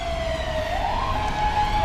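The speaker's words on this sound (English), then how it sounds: "really loud ambulances driving by all the time" An ambulance siren passing along a busy London street, a rising and falling wail heard steadily over traffic rumble, fairly loud and close.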